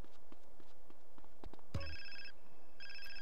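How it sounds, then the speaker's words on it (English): A phone rings for an incoming call in GTA San Andreas: two short electronic ring bursts arrive after a thud, over busy background game noise with footstep-like taps. "And another phone call."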